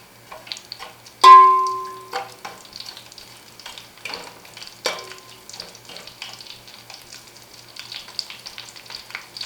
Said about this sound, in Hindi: इसी में साथ में अपनी हरी मिर्ची डालेंगे और फ्राई करेंगे।